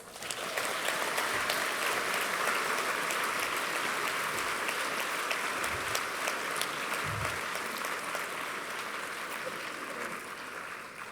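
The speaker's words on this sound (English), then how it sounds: "let's acknowledge with another round of applause." Graduation ceremony audience at Yale-NUS College gives a sustained round of applause, a large crowd clapping densely and steadily from a distance, slowly easing over several seconds.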